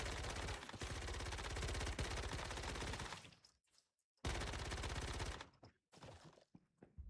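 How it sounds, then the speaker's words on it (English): Rapid automatic gunfire from a weapon in the survival shooter Once Human, a dense, loud stream of shots that stops abruptly around three seconds in, then resumes in a second long burst before breaking into scattered shorter bursts. "And it's shooting super fast."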